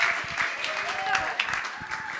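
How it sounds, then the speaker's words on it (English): Applause from a panel-event audience for the musicians, a dense patter of clapping that stays steady for a couple of seconds, with voices murmuring underneath. "Let's give another round of applause to musicians."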